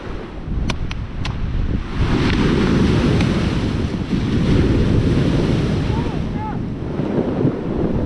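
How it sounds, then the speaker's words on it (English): Steady surf washes over a volcanic rock shore on a black sand beach on Maui with a low, rumbling roar and wind buffeting, a few sharp clacks of tumbling rocks near the start. "Clunking together of all these volcanic rocks, that's what makes this black sand beach here."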